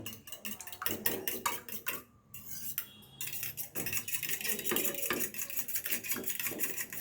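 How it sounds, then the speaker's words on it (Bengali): Egg is beaten with milk in a bowl, a fork or whisk tapping rapidly and rhythmically against the sides, close up, with a brief pause partway before the beating picks up again. "ডিমটা আমি ভালোভাবে ফেটিয়ে নিয়েছি"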